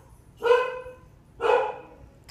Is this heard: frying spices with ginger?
no